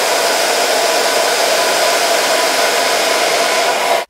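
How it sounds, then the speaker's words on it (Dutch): A Babyliss The Pro Red hair dryer blows steadily and loudly at close range while hair is styled with a brush, a continuous even roar that cuts off abruptly at the end. "En dan hou ik de föhn er tegenaan."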